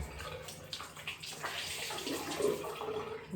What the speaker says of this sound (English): Rinse the flannel again.